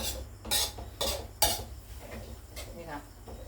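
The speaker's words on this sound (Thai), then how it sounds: "คั่วให้สุกด้วยค่ะคั่วให้สุกเลย" Sun-dried pork being stir-fried in a pan for a Thai herb larb, with several sharp metallic scrapes and clanks of a utensil against the pan over a low steady background.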